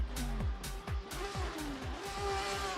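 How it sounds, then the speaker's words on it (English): Several engines rev repeatedly with rising, falling whines on the starting grid in the racing game Racing Unleashed, cars idling and revving together at moderate loudness. "As we can hear the revs rising on the grid"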